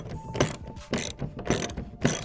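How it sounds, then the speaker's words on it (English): Ratchet wrench snugging a lock nut on a jon boat stabilizer, several short bursts of clicking in an uneven rhythm, close and clear with no talking. "Throw on the lock nut, pull that back out. We're just gonna snug this up."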